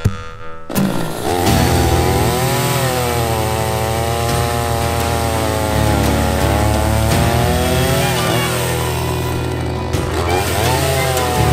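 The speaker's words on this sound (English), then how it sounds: "down cutting up some wood for tonight" Chainsaw cutting firewood at an overland camp in the Northwest, a loud continuous two-stroke drone with rising and falling revs as it bites through wood, close by and steady for most of the run.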